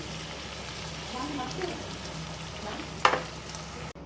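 Cashew paste hits a hot pan and fries with a steady sizzle and some stirring, with a sharp scrape near the end, heard fairly close.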